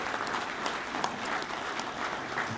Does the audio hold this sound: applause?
yes